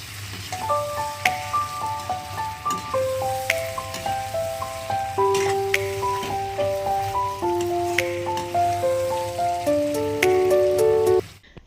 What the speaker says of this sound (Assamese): মাংস এয়া চিকেন বহাই আছো মই ভাজি আছো